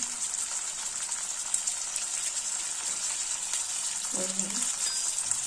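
Sweet corn pulao stirred in a pan on the stove, a steady sizzle with soft scraping of the spoon throughout, and a brief voice near the end.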